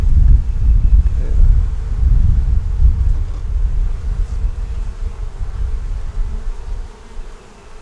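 Honey bees buzzing around a honey-bound hive, a dense low drone of many bees close to the microphone with wind rumble, fading slightly toward the end.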